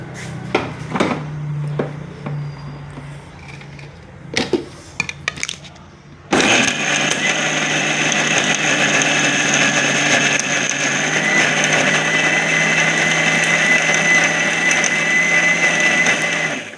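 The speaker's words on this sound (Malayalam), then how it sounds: "ബാക്കി കൂടെ നമുക്ക് മിക്സിയിലിട്ട് അരച്ചെടുക്കാം." Mixer grinder grinding dried red chilli chutney: after some handling clatter and knocks, a loud steady motor whine and grinding roar starts abruptly and runs continuously to the end.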